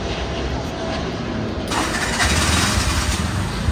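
A tuk tuk engine runs steadily and grows a little louder partway through as the throttle is opened, a close mid-pitched engine drone with no talk over it, during a tuk tuk rental driving lesson in Sri Lanka.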